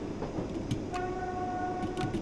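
A South Western Railway Class 484 electric train on the Island Line in Train Sim World accelerates from Ryde Pier Head, with a steady rumbling drive and rising whining motor tones over continuous running noise.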